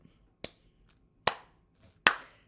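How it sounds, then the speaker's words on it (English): Three sharp hand claps spaced roughly evenly, close and clear against a quiet room, as a children's hello song begins. "Can you join me? We'll clap."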